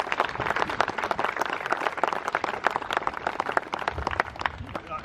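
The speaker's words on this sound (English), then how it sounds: "So I just ask you to join me in a round of applause." A crowd at a Memorial Day parade event applauds city employees, with dense, fairly quiet clapping that runs steadily through the whole stretch.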